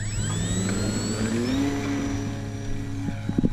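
A Stinson Reliant plane engine drones steadily outdoors on a very windy day, its pitch sliding upward and then holding, with wind noise and a few faint knocks toward the end.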